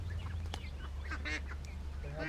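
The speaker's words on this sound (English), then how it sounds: "They have ducks." Several ducks quack in a short, lively burst at a farm, close and fairly loud over a low steady rumble, with no talking.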